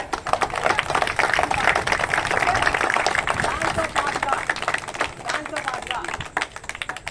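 Crowd applause at an MRPS 30th anniversary gathering in Gampalagudem: dense, steady clapping from many hands that fills the scene for several seconds, with a voice talking over it.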